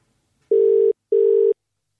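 Two identical electronic telephone ring bursts, each about half a second long, sound in quick succession against silence, with a brief gap between them.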